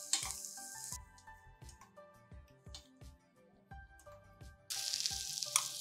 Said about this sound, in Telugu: గుమ్మడి ముక్కలు కొంచెం వేగితే చాలండి, కాస్త నేతి వాసన వచ్చేదాకా